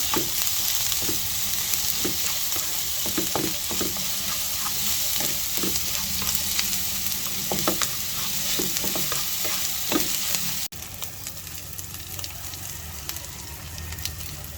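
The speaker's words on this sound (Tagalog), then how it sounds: "Get tayo ng hotdog. Gisa-gisa lang ano." Hotdogs sizzle and fry steadily in a hot frying pan. A spatula stirs them in repeated scraping, clattering strokes over the constant hiss, and the pan goes quieter near the end.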